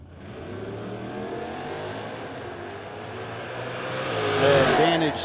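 A Camaro race car at a No Box 660 drag racing shootout roars in a steady, loud engine drone that swells and rises in pitch toward the end, heard from trackside.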